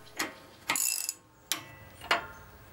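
Metal parts clanking and ratcheting while a steering stabilizer bracket is bolted onto a Jeep Wrangler JKU's track bar mount, with four or five sharp, close clacks spaced about half a second apart and a short grinding run between them.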